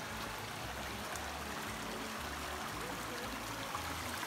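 Mountain stream in the Dolly Sods Wilderness flowing over rocks, a soft continuous rushing and gurgling of water heard at a distance with no voices.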